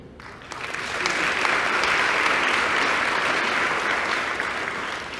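An audience at a senior awards ceremony claps steadily for an award recipient, the applause swelling within the first second and holding at a full, even roar for several seconds before easing slightly near the end.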